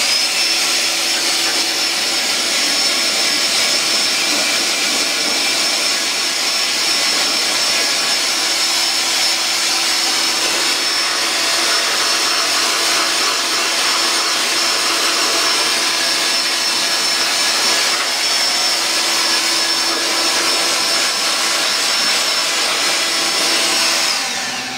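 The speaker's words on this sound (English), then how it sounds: "This right here is what I use to possess an air mattress pump. I'm gonna go ahead and we're gonna start blowing it out." An air mattress pump blows dust out of a dusty Dell Precision T7500 desktop PC. A loud, constant, close-up rushing whine holds without a break for the whole span.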